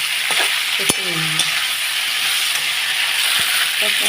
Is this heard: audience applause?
no